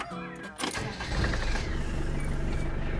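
A Land Rover engine cranks briefly and catches on its first start, then settles into a close, steady rumbling idle, with a voice briefly heard.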